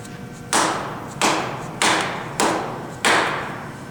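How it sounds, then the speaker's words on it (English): Five evenly spaced heavy thuds as a milling machine vise is tightened in a university machine shop, each strike close and loud, with a faint hum between. "So get in here, bring the vise tight."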